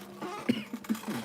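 A single soft cough, close and brief, with a short throat-clearing quality, heard in a quiet indoor room while someone packs an order.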